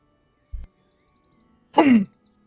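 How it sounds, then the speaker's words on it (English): A single brief, raspy cough close to a microphone during a gaming session, preceded by a soft low thump, then silence. "if you guys caught the tail end of that cough, that is my bad"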